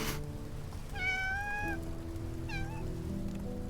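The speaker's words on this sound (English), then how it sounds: "A cat isn't a log." A cat meows twice, a longer rising-and-falling mew followed by a shorter one, fairly clear over a steady musical background bed.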